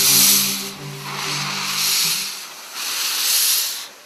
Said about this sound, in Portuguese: o século XIX tem seu ritmo ditado pelo som das locomotivas a vapor